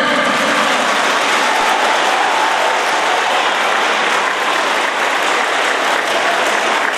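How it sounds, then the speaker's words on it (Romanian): A crowd at a school event in Drăgășani, Romania, gives loud, sustained applause, a dense and even roar of many hands clapping that holds steady from start to finish. "Aplauze!"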